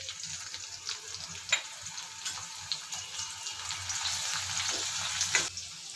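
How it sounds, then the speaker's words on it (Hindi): Green chillies frying in a teaspoon of oil in a kadhai: a continuous soft sizzle and crackle with scattered small pops, heard close and fairly quiet, with occasional stirring scrapes. "हमारी हरी मिर्च यहाँ पर फ्राई हो गई है"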